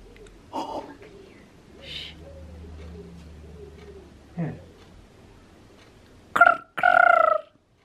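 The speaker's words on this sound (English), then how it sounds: "We can hear a pigeon" Pigeon cooing from inside a chimney, heard as a few soft low calls early on, followed later by two louder, brighter bursts of bird calls near the end.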